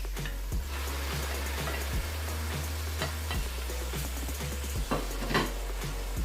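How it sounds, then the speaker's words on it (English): Saltfish hits hot cooked seasoning in a pan for ackee and saltfish, giving a steady close sizzle with scattered clinks and scrapes of a utensil against the pan, and no voices. "I will now go ahead and add my saltfish"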